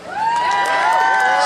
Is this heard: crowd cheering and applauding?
yes